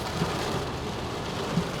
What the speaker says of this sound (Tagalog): Yan, kalakas ng ulan.